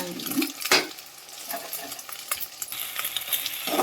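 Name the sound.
egg frying in hot oil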